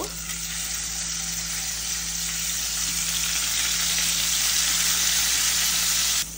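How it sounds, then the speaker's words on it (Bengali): Steady, loud sizzling of fish heads frying in hot oil, a continuous hiss close by with no voices, cutting off abruptly near the end. "এখানে মাথাগুলিকে একটু ভেজে নেব।"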